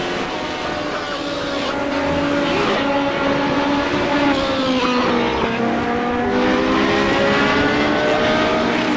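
Radical race car driven flat out on a race track, its engine screaming at high revs with rising and falling pitch through gear changes, loud and continuous from onboard for the whole stretch.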